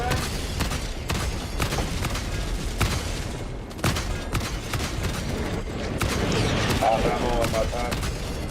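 Dense, continuous video game gunfire with booming bursts and rapid shots layered together, loud and close, while voices talk over the shooting.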